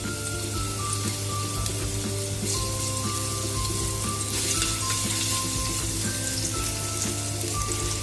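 Chopped garlic sizzles steadily in hot cooking oil as it is sautéed for ginisang sayote, a continuous close crackle with faint soft tones running underneath.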